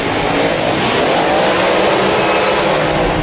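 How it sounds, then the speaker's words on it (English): Hot rod race car in a drag racing semifinal, a loud continuous engine roar with a broad rasping texture, steady throughout with no voices over it. "And here he is, driving in the semifinal round."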